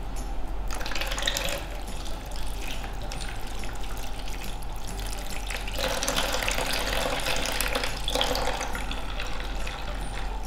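Water running from a tap as hands are rinsed clean during handwashing before a contraceptive implant procedure, a steady splashing stream with soft drips, close and continuous throughout.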